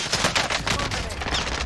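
Rapid automatic gunfire in the video game Call of Duty: Warzone, a dense burst of close, loud shots firing continuously across a short stretch with no talk.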